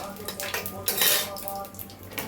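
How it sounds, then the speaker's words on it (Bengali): Cardamom, cloves and cinnamon are stirred briefly in a pan as a tempering, with metal utensil scrapes and clinks against the pan over a soft background sizzle. "দু সেকেন্ড মতন এটাকে একটুখানি নাড়িয়ে নিচ্ছি"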